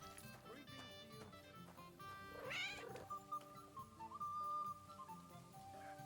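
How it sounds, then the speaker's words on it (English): A cat meows in the Kingdom Come: Deliverance 2 video game, one drawn-out whiny meow midway through, heard over a steady music bed and ambient game sounds. "I would have bet money that I heard a cat."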